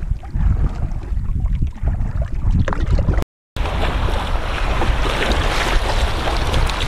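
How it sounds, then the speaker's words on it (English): Waves on Waldo Lake in Oregon slosh and break against rocks near a canoe, a loud, broad washing roar mixed with wind that cuts out briefly midway and then returns. "you can see what the waves are doing to the rocks right here"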